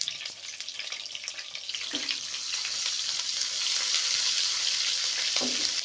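Steady crackling sizzle of garlic-ginger paste frying in hot oil with cumin, with occasional light scraping of a spoon stirring the pan.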